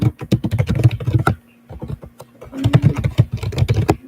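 Data being typed on a computer keyboard to fill in a food-safety record form, with rapid close clicking keystrokes in two bursts separated by a short pause.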